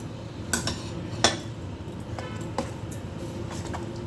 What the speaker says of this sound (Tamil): இந்த வெங்காயம் தாளிப்பை இதில் போட்டுருவோம்